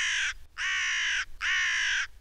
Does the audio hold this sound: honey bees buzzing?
no